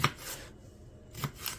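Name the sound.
chopping ingredients for bean soup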